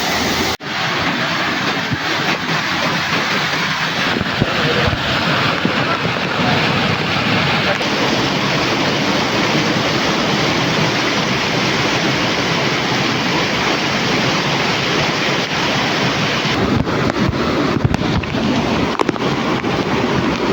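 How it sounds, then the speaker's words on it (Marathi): A waterfall by a river roars in a dense, constant rush of water close to the microphone, with wind buffeting and no voices heard. "बघू शकता कसला वॉटरफॉल आहे ना खतरनाक"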